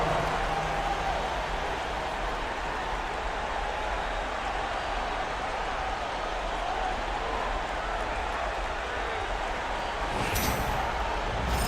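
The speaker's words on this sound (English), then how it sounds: "Let's give a big round of applause to your Lakers Hype Squad." A crowd in the NBA 2K25 basketball video game applauds in a steady, dense wash of clapping, with a brief louder burst near the end.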